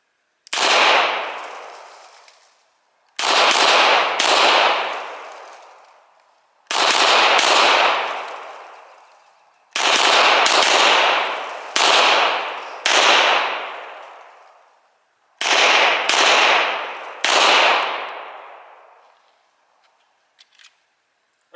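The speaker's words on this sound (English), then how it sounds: "We're going to see how it is on that full trigger pull on the first shot" Beretta M9A4 pistol fired in a series of loud, close shots, grouped in quick doubles and triples with pauses between, each crack trailing off in a long echoing decay over about twenty seconds.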